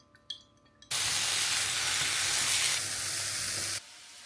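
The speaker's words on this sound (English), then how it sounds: "I've sliced up some mushrooms, which I'm gonna saute in the pan" Sliced mushrooms hit a hot pan with a sudden loud sizzle that holds steady for about three seconds before cutting off, after a few faint clinks at the start.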